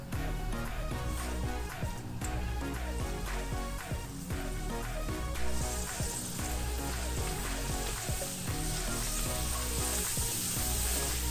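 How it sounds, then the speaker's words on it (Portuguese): Pastel frying in very hot oil, a steady, dense sizzle and crackle of bubbling oil that runs continuously and loudly, close up, with no talking over it. "E nós vamos fritar o pastel no óleo bem quente."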